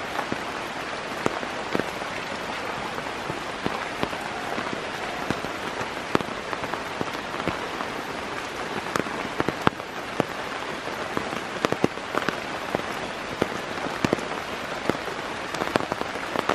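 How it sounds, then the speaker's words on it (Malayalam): Steady monsoon downpour in Kerala drumming on surfaces, a dense, continuous hiss of rain with scattered sharper drop impacts throughout, with no voices. "മഴ പെയ്തപ്പോൾ അടിപൊളിയായി, ആകെ വെള്ളമായി."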